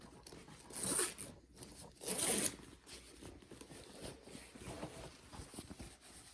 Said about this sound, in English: We'll take our new zipper and slide it on.